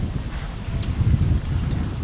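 Wind buffets and rumbles across the microphone in low gusts aboard a sailboat on the Chesapeake, steady and close, with no other sounds.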